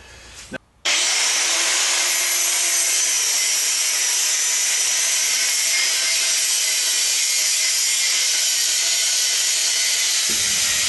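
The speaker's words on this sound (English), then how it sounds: "all we're using here is a cut-off blade in this side grinder, and it really works good on the aluminum because the aluminum isn't very hard" A side grinder with a cut-off blade cuts through aluminum from an old lawn chair, a loud, steady, high-pitched screeching whine that starts abruptly and holds for about ten seconds before stopping.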